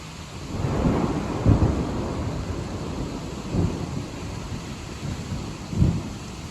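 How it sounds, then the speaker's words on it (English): A severe summer thunderstorm in Dayton brings steady rain with low rolling thunder that swells in several rumbles, heavy and near, with wind in the background and no voices. "it's raining now."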